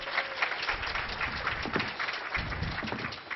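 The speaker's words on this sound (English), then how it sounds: "Everyone applaud for Laz." An audience at a security conference claps steadily for a presenter coming up, dense even applause lasting the whole few seconds with no talk over it.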